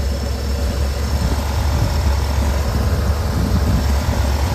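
Car engine idling steadily near 1000 RPM during a Duraspark II ignition module test, a loud, continuous low rumble heard close up that holds even for several seconds with no voices.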